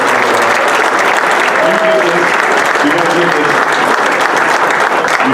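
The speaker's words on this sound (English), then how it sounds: "I would wish that we could all come together and just give them a big round of applause." Ceremony audience at an athletic wall of fame event giving a loud, sustained round of applause, dense clapping with some voices mixed underneath.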